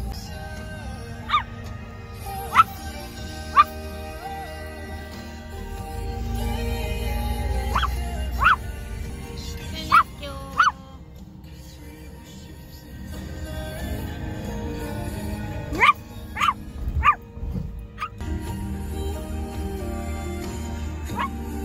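A person imitates a small dog, giving a series of short yips, barks and whimpers spread across a steady indoor background hum, some bunched close together and others spaced apart.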